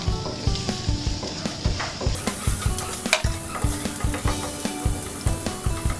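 Onions sautéing for laing sizzle steadily in a pan while a utensil stirs and scrapes with repeated soft knocks, moderately close and with no talking.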